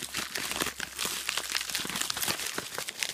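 Plastic wrapping crinkles and crunches continuously as a Resident Evil 2 PS4 game case is unwrapped, close and fairly loud with dense rustling bursts throughout.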